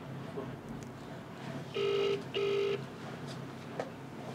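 Two short electronic telephone tones sound during a phone call, each lasting a fraction of a second with a brief gap between them. They stand out softly against a quiet, muffled background.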